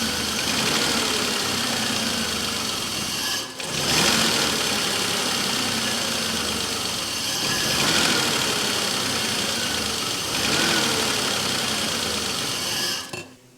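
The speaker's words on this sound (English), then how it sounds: "That fuel pump does not sound happy." A BMW 735iL engine idles steadily and close, a thin high whine from a struggling fuel pump running continuously over the rumble, with a few brief surges in the noise.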